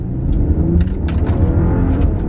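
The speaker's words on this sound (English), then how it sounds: "Let me go ahead and floor it real quick." A 2010s-era BMW F10 535i sedan with a JB4 performance tune is floored at full throttle, its engine roaring loudly and steadily from inside the cabin, with brief higher whooshes over the continuous low rumble.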